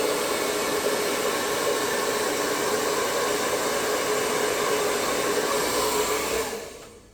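Loud, steady hair dryer blowing air across an acrylic paint pour, a constant close whooshing roar that cuts off in the final second.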